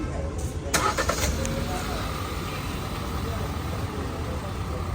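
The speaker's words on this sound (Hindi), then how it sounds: "देखिए गाड़ी चालू हो रही है।" Hyundai Creta engine starting by remote while the car stays locked: a brief crank and catch, then a steady idle hum, with someone talking nearby.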